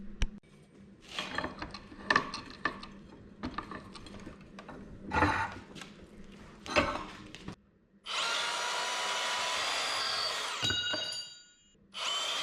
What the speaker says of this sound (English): now I'm gonna cut these out and try and drill holes in them and bolt them together